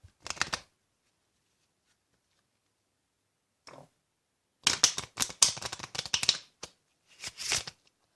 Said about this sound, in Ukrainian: зараз я перетасую.